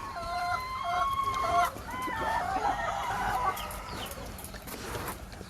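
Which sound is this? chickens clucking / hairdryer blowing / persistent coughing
chickens clucking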